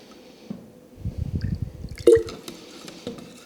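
Water poured and dripped into a jar of homemade chalk paint to thin it, a short gurgling splash followed by a brighter clink and trickling drips, close and alone.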